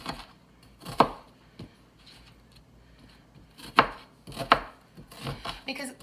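Knife dicing an onion on a cutting board, a few crisp close chops in small clusters separated by quiet pauses, with no talking.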